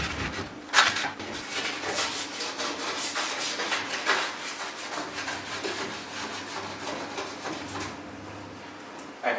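A scraper is drawn across waxed skis in a series of quick repeated rasping strokes, close and fairly even in rhythm for several seconds, with no talking over it.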